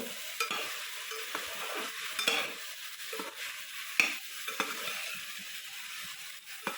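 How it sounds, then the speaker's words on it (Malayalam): A ladle stirs aviyal, a Kerala mixed-vegetable dish with drumsticks, in a pan on the stove: close scraping strokes at a steady pace over a soft continuous sizzle, with no voices. "നന്നായിട്ടൊന്ന് ഇളക്കി കൊടുക്കുക, അല്ലെങ്കിൽ അടിയിൽ പിടിക്കും."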